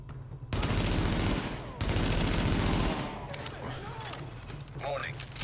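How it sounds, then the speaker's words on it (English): Bursts of automatic gunfire from the video game The Division, two long loud volleys in the first three seconds, followed by quieter game sounds and a brief electronic tone. "Keep shooting."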